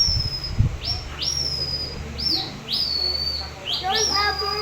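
A traditional hunters' bird whistle used in the mountains gives a series of rising, chirping bird-call imitations, about five separate calls in a row, clear and close over a low rumble.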